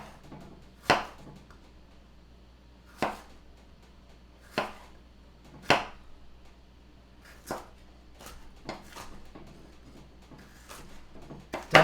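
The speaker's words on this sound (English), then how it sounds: "Definitely not chopping like a professional chef, all finesse like" A knife slices a red pepper thinly on a cutting board at home, giving sharp, distinct chops spaced out irregularly, roughly one every second or two, each close and crisp against a quiet background.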